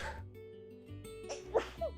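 One person sneezes near the end, a quick sharp burst after a faint breathy build-up, over quiet background tones with no talking.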